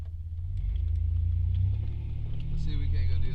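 A 1992 Chevy car driving fast, its engine giving a steady, close low rumble that swells slightly toward the end.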